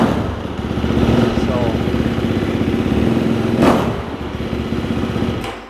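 A motor vehicle engine runs steadily with a rough, clattering idle at close range, holding a continuous drone for several seconds with a brief thump near the end, while a voice speaks over it.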